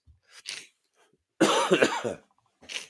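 A few close, harsh coughs, a short one followed by a louder burst of hacking, with quiet gaps between.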